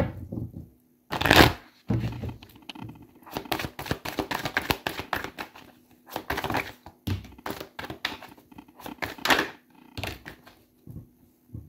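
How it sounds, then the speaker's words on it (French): A deck of oracle cards is shuffled by hand in repeated bursts of crisp, close riffling and flicking, separated by short pauses. "je vais prendre une carte de l'oracle des miroirs"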